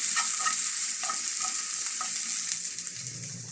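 Softened onion tempering is tipped into a meat curry with pumpkin and drumstick, giving a bright, steady sizzle broken by a few soft scraping stirs before it eases off slightly.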